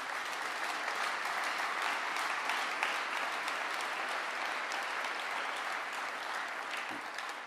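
Steady, full audience applause at a corporate New Year's wishes ceremony in a hall, a sustained wash of many hands clapping at an even level for the whole stretch with no voices.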